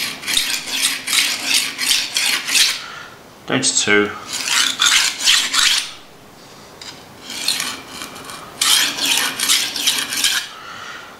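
A butcher's knife is drawn along a sharpening steel in bursts of rapid swishing, rasping strokes, pausing briefly between sets, with a short spoken count in the middle.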